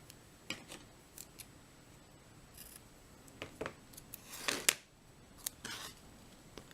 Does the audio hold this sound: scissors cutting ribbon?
yes